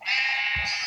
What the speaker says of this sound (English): Oh no, my house is full of sheep.